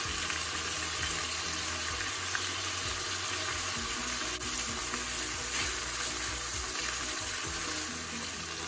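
Chicken pieces for a stir fry with broccoli and mushrooms sear in a hot pan, giving a loud, steady sizzle with occasional stirring clatter close by and no speech.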